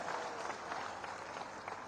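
Crowd applause at an outdoor public rally at a fairground, a steady wash of many hands clapping from a distance, moderately faint and continuous throughout.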